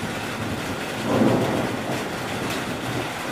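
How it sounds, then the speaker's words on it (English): Rain patters steadily in a thunderstorm with a low rumble of thunder swelling briefly in the middle, a dense, continuous outdoor wash of sound with no voices. "now we've got a little thunderstorm rolling in."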